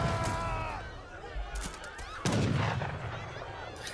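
Cannon fire in an Age of Empires III match, several booming shots and impacts mixed with battle noise and squawking unit sounds, with a commentator talking underneath.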